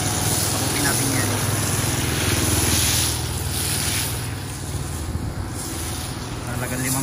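Motor of a coin-operated airless soap sprayer at a car wash runs with a steady, loud broadband roar and low hum, continuous throughout with slight swells, under faint wind noise.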